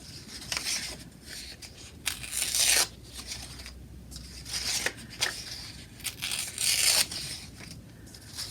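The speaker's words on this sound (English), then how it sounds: "Open it up and tear gently on the fold line." Sheets of paper are torn gently along their fold lines at a preschool forest-animals craft, in repeated short ripping bursts with brief pauses between them, close and moderately loud.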